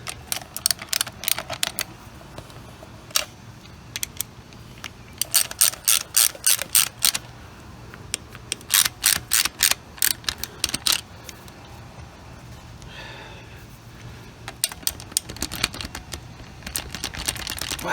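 A ratchet socket wrench clicks in quick bursts while turning a bolt on a 1936 Chevy coupe during fuel pump and fuel pipe installation, with close, sharp runs of pawl clicks separated by short pauses.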